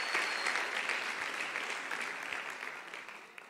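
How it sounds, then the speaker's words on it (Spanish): A church congregation claps together in a dense, sustained burst that fades gradually toward the end, with no talk over it. "Clap your hands if you're ready for the word of God."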